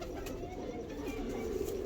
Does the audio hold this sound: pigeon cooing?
yes